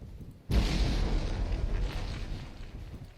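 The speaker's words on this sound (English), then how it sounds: "That's a bouncy bomb." A bouncy bomb explodes in the naval combat game From the Depths, a sudden loud blast followed by a long, heavy rumbling roar that slowly fades away.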